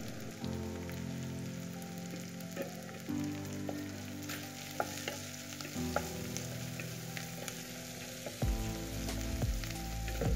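Onions sautéing and being stirred in a pan for poori masala, a steady close sizzle with repeated scraping strokes over a continuous tonal hum, no talking.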